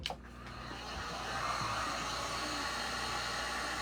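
A hair dryer blows on a layer of a craft project, a steady, fairly quiet whooshing roar that starts after a brief click and continues evenly.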